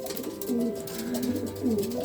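Homing pigeons in a home loft coo in low, rolling repeated calls, close and clear over a faint background hum.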